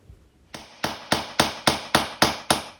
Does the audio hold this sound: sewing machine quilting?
no